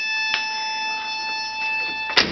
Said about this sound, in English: Those alarms are annoying, aren't they?